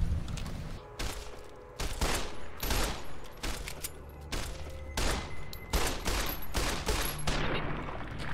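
Gunfire in the video game Fallout: New Vegas, a rapid string of loud shots in close succession with rhythmic repeated reports over a busy game soundscape.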